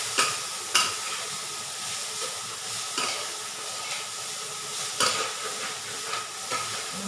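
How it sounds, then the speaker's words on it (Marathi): Guar beans sauté in a pan, a steady low sizzle broken by several sharp scraping stirs at irregular intervals, close and moderately loud with no voices. "परतून घेते चांगलं."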